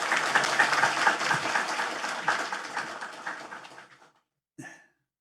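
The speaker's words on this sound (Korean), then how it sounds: "우리 박수로 환영하도록 하겠습니다" A church congregation at Sunday worship applauds to welcome the pastor, with steady dense clapping that fades out after about four seconds, followed by a brief silence and then a short sound.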